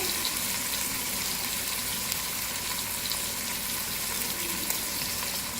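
Chicken with green chillies and whole spices frying over high heat for yakhni pulao, a steady broad sizzle running unbroken throughout, close and even with no talking.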